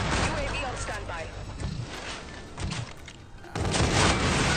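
UDM pistol gunfire in Call of Duty: Infinite Warfare team deathmatch crackles loud and dense over game noise, with a brief lull before another heavy burst of shots.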